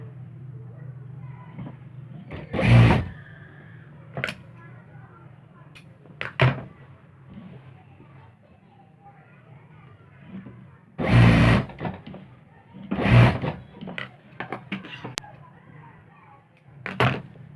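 A sewing machine stitching a salwar runs in several short bursts of a few seconds each, separated by quieter handling between runs, with a steady low hum underneath.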